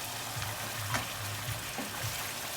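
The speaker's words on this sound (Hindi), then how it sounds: "अब हमने इसके साथ गोश्त थोड़ी भूनना है" Meat sizzles in a pan with onions for a Pakistani tinday gosht dish, a steady close crackle with faint stirring scrapes.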